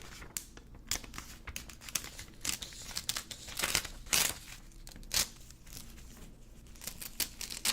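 A single sheet of lined notebook paper is handled close up, with soft crinkles, rustles and crisp scattered crackles at an irregular rhythm over a quiet background.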